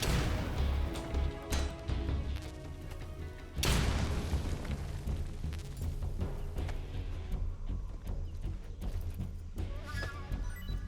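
A grenade blasts in the Metal Gear Solid Delta video game, a loud booming explosion with a heavy low-end thump that decays amid game sounds and music, with almost no talking.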